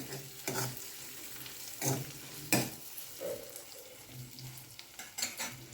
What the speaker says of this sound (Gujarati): બધું મિક્સ કરીશું